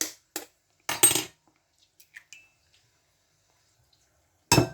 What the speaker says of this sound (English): So we're going to crack the 4 eggs